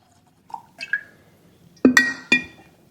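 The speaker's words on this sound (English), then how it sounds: "Let me top it off with more water" Water poured into a glass jar of kombucha to top it off, heard as a few short splashes and glassy clinks, close and fairly loud, with no talking.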